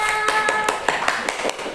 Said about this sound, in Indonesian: Terima kasih Nazira, tepuk tangan.